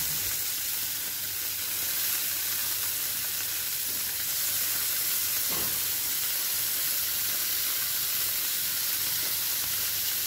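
Sardines grill on a hot plate with a steady, close sizzle and hiss that runs unbroken for the whole stretch, with no voices over it.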